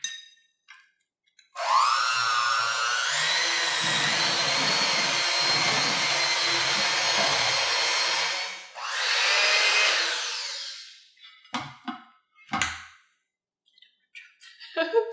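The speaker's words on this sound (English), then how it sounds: "I'm just going to take my hand mixer and mix this up really well." A handheld electric mixer whirs through tiramisu ingredients in a kitchen bowl, a loud steady whine running about seven seconds, a brief stop and a second shorter run, then scattered clinks.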